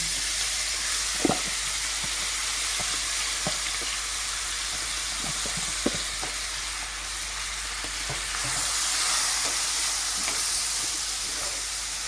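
Saltfish fries in a pan of Jamaican curry with a steady, close sizzle and hiss, broken by soft stirring clicks and scrapes, with no talking.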